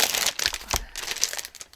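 Plastic bags being handled, a dense run of crisp crinkling and rustling with a few sharper crackles, close and continuous for under two seconds.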